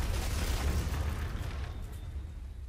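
A grenade bursts in the first-person shooter Clive Barker's Jericho, a loud, rumbling low-heavy blast that rolls on and fades slowly over a couple of seconds, with no voices over it.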